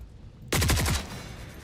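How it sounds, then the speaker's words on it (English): Enemy gunfire in The Forever Winter, a single sharp burst of about six rapid shots at close range, followed by a fading echoing tail over low background noise. "They're shooting."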